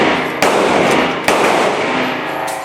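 An SRM 1216 semi-automatic 12 gauge shotgun fires buckshot at an outdoor range, with three sharp, loud, close blasts spaced about a second apart and no speech.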